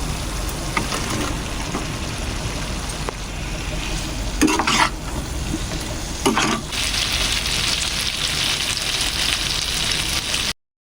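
Chicken frying in a pan with tomato sauce and soy sauce, a steady loud sizzle running throughout, with two brief sharper bursts of stirring or spattering midway.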